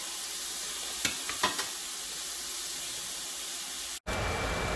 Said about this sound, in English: while I get this ham seared up